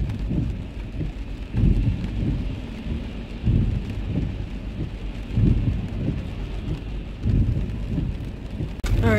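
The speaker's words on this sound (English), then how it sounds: "It's pouring as heck." Heavy pouring rain drums steadily and loudly outdoors, with low rumbling gusts surging every couple of seconds, continuous and without voices.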